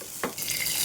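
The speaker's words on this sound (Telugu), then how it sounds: "మునగాకు కూడా మంచిగా దూరగా ఇట్లా వేపుకోవాలి." Drumstick (moringa) leaves frying and being stirred in a hot pan, a steady close sizzle with a sharp stirring scrape partway through, no voices.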